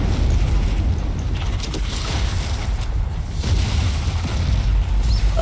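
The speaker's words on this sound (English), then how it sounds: "If I'm right, that should explode." A heavy, booming explosion rolls through a level of the Strange Brigade video game, a loud, sustained rumble that holds for several seconds with no speech over it.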